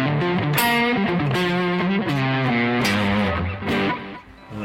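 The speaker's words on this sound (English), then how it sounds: "here's some Marshall tones." An electric guitar played through a Marshall amp plays distorted blues-rock chords and notes, loud and close and alone, with phrases ringing out and then falling briefly quieter near the end.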